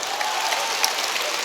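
A church congregation claps in sustained applause, a dense, even patter of many hands filling the room for a brief stretch.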